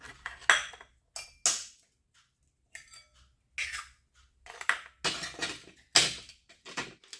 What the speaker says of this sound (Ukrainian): Розбиваємо яйця.